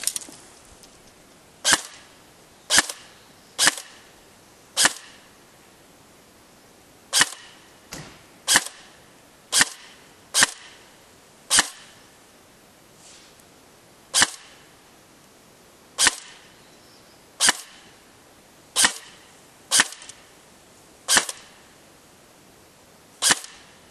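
Snow Wolf M99 airsoft sniper rifle firing 0.3 g BBs with the hop-up set high, shooting at a target 200 feet away: about twenty sharp, crisp shots spaced at irregular intervals of one to two seconds, each a loud isolated crack over quiet background.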